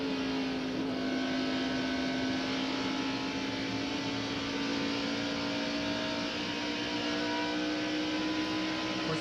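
Onboard view of Morgan Shepherd's number 15 stock car racing at the 1990 Budweiser 500, its engine holding a loud, steady, sustained drone that changes little in pitch across the stretch, with no talk.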